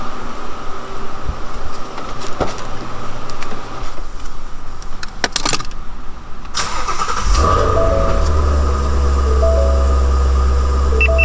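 Ford Mustang GT350 engine cranking and starting with a sudden deep rumble, then settling into a loud, steady idle, heard close by after a stretch of other sound.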